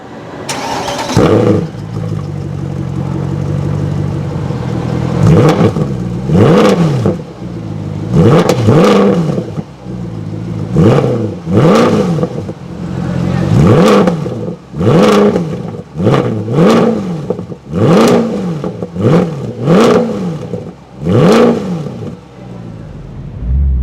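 A 2015 Mercedes-Benz C63 AMG Black Series exhaust fires up and is blipped through a long run of sharp, loud revs, each rising and falling over a steady idle, close and with no talking.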